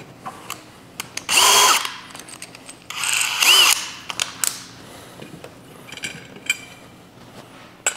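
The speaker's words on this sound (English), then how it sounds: "Take both of our 1/4-20 screws, put them back in, make sure we have the right bit on our drill." A cordless drill drives 1/4-20 screws into a kayak foot brace during a steering kit install for a Torqeedo motor, two close, loud whirring bursts of a few seconds each with quieter clicks and handling between them.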